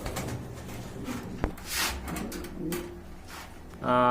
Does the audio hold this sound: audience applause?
no